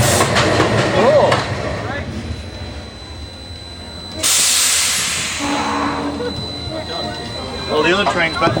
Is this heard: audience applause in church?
no